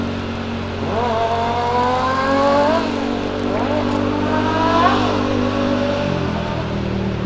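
A motorcycle exhaust revs repeatedly, the engine pitch climbing and dropping in rising sweeps over a steady low rumble, loud and close.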